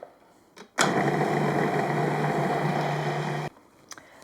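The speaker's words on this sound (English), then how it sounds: "a little bit of coconut oil, and we're going to blend that up." A blender whirs Southern-style poultry seasoning with coconut oil, starting abruptly, running loud and steady at close range for nearly three seconds, then cutting off sharply.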